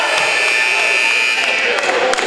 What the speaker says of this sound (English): Buzzer beater.